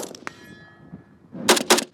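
A gunshot crack followed by two sharp metallic rings of a steel gong target being struck, loud and close, at a border guard shooting training range.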